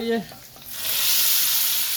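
A brief sizzle begins as hot spiced oil tempering hits masoor dal, swelling into a loud, steady crackling hiss close up.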